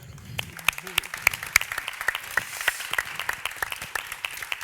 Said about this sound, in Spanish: Un fuerte aplauso para mi equipo, por favor.